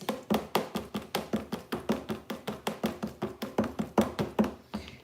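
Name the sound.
mixing cinnamon and spices into lemon ginger shot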